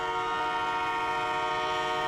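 A train horn holds a loud, steady multi-tone chord for the full two seconds, blaring close by and unbroken as a train rolls through, with no voices.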